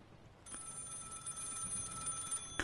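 A telephone rings with a steady electronic trill that starts abruptly and continues for a couple of seconds, fairly quiet and alone.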